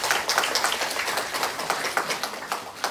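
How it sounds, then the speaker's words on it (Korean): An audience claps enthusiastically at a forestry jobs business briefing meeting, a dense, fairly close burst of many hands clapping with an uneven rhythm across the whole moment. "우리한테 좋은 그 정보를 주신 그 구루 매니저님한테 다시 뜨거운 박수로 부탁드립니다."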